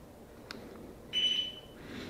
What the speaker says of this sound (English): it will give a beep indication saying it was done